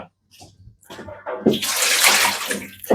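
Ice-cold fridge water with ice cubes pours into a dough mixer for Neapolitan pizza dough, a loud steady gushing splash that starts after a few soft knocks and runs continuously to the end.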